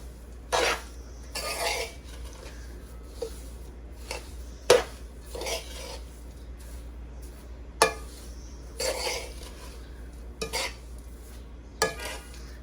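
A spoon stirs panjiri ingredients around a metal pan, giving intermittent scraping strokes and clinks over a low steady hum, with no voices.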